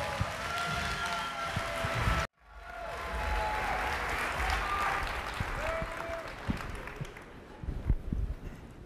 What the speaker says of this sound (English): Please give them a warm welcome of applause.